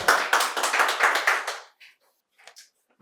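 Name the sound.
audience applause at a quiz contest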